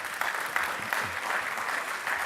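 A crowd applauds at a university startup accelerator showcase awards ceremony, a steady, fairly loud wash of clapping from many hands that lasts the whole moment with no speech over it.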